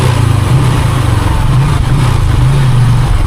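A motorcycle engine runs steadily at a low, even idle, close and loud, with no talk over it.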